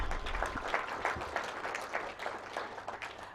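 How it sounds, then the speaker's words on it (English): Audience applause at a company annual general meeting, a steady wash of many hands clapping at moderate volume across the whole stretch, with a low room hum beneath. "Can we give him a better hand clap?"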